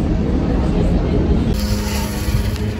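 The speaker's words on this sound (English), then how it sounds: "We're at the subway station right now." Busy subway station ambience: a steady broadband rumble of trains and machinery with a high whine running throughout.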